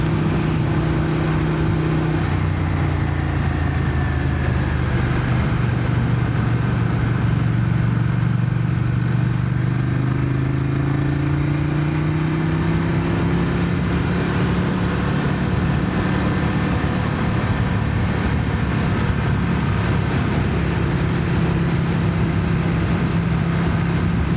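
A Ducati motorcycle engine while riding: a steady loud droning hum with slowly rising and falling engine pitch as the bike runs on, with wind noise and no voices.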